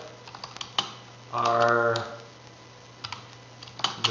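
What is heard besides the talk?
typing a question on a computer keyboard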